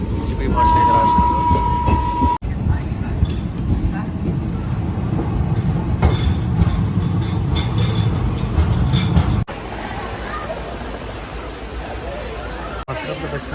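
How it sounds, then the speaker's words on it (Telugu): The Guntur Express rolls along in a loud, steady rumble of wheels and carriages heard from on board, with a faint tone early on, abrupt shifts in level, and passenger chatter mixed into the background. "ట్రైన్ వచ్చేసి గుంటూరు ఎక్స్ప్రెస్ ట్రైన్ ఇది."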